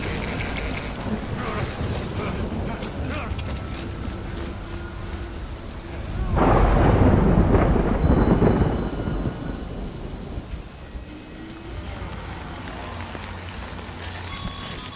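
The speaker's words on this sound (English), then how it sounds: "Good thing it was raining." Steady rain hisses through the Death Stranding video game scene, and a deep thunder rumble swells in the middle before fading back to the downpour.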